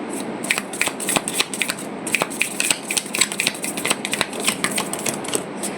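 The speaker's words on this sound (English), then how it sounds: "You can see the shuffle of it as well." Tarot cards are riffle-shuffled in quick crackling bursts, close up, repeating several times with short pauses between.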